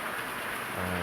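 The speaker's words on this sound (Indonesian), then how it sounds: "saya juga mohon maaf karena ini ada cuaca yang lagi hujan" Steady rain falls as an even, soft hiss that stays constant throughout, with no voices over it.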